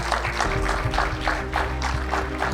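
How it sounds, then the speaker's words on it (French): Audience clapping for the jury at the grand final of the Kitchen Battle cooking competition, season 2, a steady dense round of applause over a low hum, with faint voices underneath. "on les applaudit bien fort"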